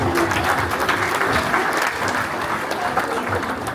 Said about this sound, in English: Another round of applause for the groomsmen, ladies and gentlemen